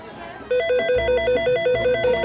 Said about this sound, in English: the Korean desk toll-free number 1866-625-1950 is ringing